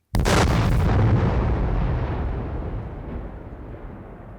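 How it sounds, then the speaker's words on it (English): A single loud explosion bursts out, then a long rumbling roar slowly fades away. "Yeah. Explosion."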